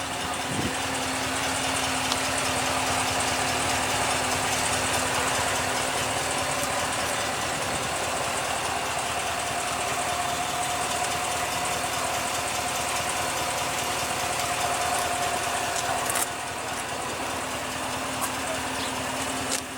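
A 2016 Cadillac Escalade's 6.2 L V8 idles steadily with a smooth, even hum and a faint tonal whine, unbroken and close for the full length, with no one speaking.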